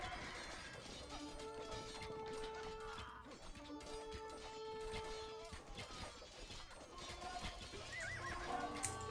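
Horse archers' mounts in Age of Empires II whinny and neigh repeatedly over a steady clatter of hooves, with crashing battle noise throughout and no talk.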